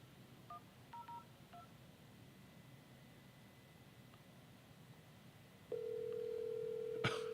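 A phone call being placed: a few short touch-tone dialing beeps early on, then a steady ringback tone that starts near the end and holds, with a brief click just before it stops, all fairly faint with no one speaking.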